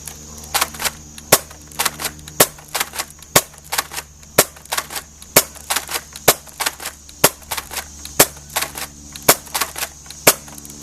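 Nerf Vanilla Ice Recon Mk II blaster firing darts from a drum, a series of about twenty sharp snapping shots at a roughly steady rhythm, close and loud with mechanical clicks between them.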